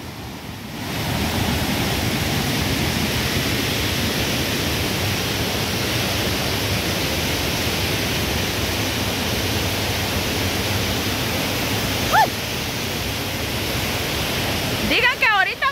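Floodwater from a swollen river rushing past a wall, a steady broadband roar that holds constant throughout, with a brief faint chirp near the end.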